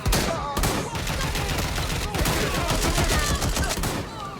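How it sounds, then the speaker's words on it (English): Dense, sustained gunfire from the video game Watch Dogs Legion, continuous bursts and fusillades filling the whole stretch, loud and close with faint voices underneath. "I'm taking fire!"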